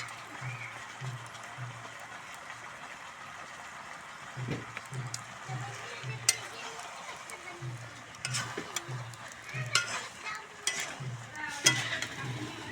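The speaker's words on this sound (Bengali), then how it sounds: "এই যে টমেটো আর পেঁয়াজ দেওয়া হচ্ছে উপর দিয়ে, কালার হবে ভালো।" Tomatoes and onions hit a pan of jackfruit curry already cooked down with spices, giving a steady close sizzle with repeated stirring scrapes and spoon clatter against the metal, plus brief louder knocks.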